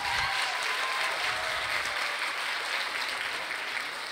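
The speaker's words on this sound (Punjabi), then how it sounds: "ਜ਼ੋਰਦਾਰ ਤਾੜੀਆਂ।" An audience at a Teeyan festival event breaks into loud, dense applause that holds steady for several seconds without any voices on top.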